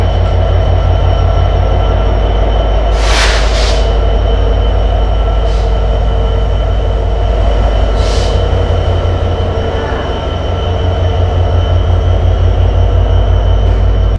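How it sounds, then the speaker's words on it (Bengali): Banalata Express passenger train departing Rajshahi railway station, a loud steady rumble of carriages with rhythmic wheel clatter and a few sharp metallic squeals and hisses, heard from on board without voices. "ট্রেন ছেড়ে দিল রাজশাহী রেলওয়ে স্টেশন থেকে।"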